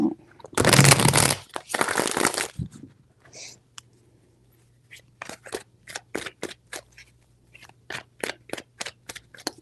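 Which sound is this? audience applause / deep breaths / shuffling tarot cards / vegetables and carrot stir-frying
shuffling tarot cards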